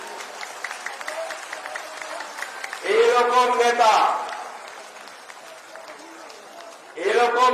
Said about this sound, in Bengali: সবগুলি 1 মিনিট হাততালি দেন।